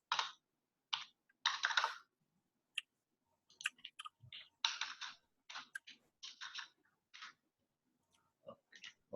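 Fast typing on a computer keyboard, close and quiet, in irregular bursts of clicks separated by short pauses.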